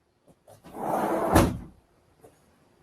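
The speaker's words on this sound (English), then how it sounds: "Let me close this door." An indoor door swings shut, with a short rustling slide building into a solid thud, then quiet.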